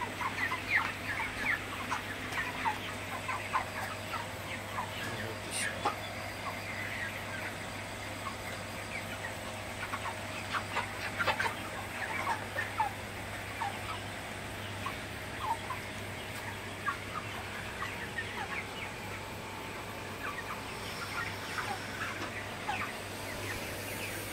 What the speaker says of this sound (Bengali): মুরগিগুলোকে সবসময় তাড়াই দিতে হবে যাতে পানি খায় এবং খাবার খায় ঠিক মতো